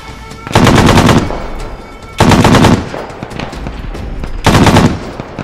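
Automatic gunfire in the WW2 Guadalcanal battle of the video game Arma 3, heard as three loud, close bursts of rapid shots with short pauses between them.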